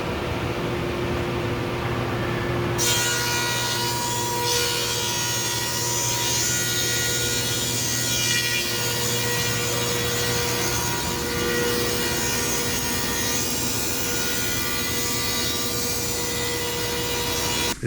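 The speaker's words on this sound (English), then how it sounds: "The 25-inch Laguna industrial planer, really starting to get it dialed in with the programs." A 25-inch Laguna industrial planer runs wood in a workshop, its motor hum and cutting noise steady and loud for the whole stretch, with a harsher cutting layer entering a few seconds in.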